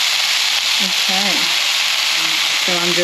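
Chicken and tofu sizzle and crackle steadily in a hot pan, with occasional stirring and a few brief murmured vocal sounds over the constant frying hiss.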